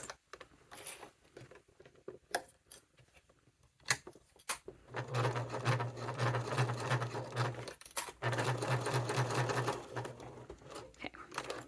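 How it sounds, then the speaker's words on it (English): A sewing machine stitches satchel pieces in place after a few seconds of scattered clicks and handling, running in two steady bursts of rapid, close whirring separated by a brief pause. "Now I'm going to stitch them in place here."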